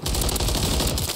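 Rapid automatic gunfire in Modern Warfare 3, a loud, dense burst of fast shots that runs continuously for about a second.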